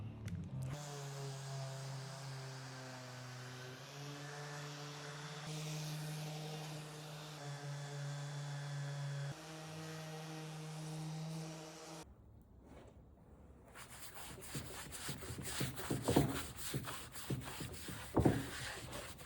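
Scaffold plank wood is worked with a power sander, a steady humming motor tone with shifting pitch for the first stretch, then rougher abrasive scraping and rubbing with uneven bursts toward the end, fairly quiet overall.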